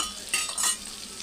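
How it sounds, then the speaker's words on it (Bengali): Ginger paste is stirred into a frying curry with potatoes, giving a short burst of hissing sizzle with a couple of brief scraping strokes, close and alone. "আদা বাটাটা দিয়ে দিয়েছি দিয়ে ভালো করে নাড়িয়ে চাড়িয়ে তারপর আর একটু কষিয়ে নেব"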